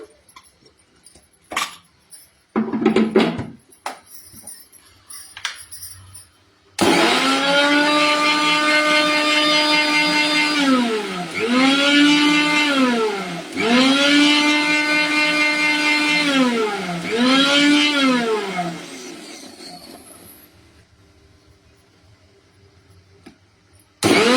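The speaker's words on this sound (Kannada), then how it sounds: "ಈ ರೀತಿ ಮಾಡಿಕೊಂಡು ಮಿಕ್ಸಿ ಜಾರಿಗೆ ಹಾಕಿ ರುಬ್ಕೊಂಡ್ರಾಯ್ತು." Mixer grinder jar grinding a poha momo mixture with salt and coriander: after a few clattering knocks, a loud, close motor whine starts abruptly and runs in several surging pulses for about thirteen seconds, then cuts off.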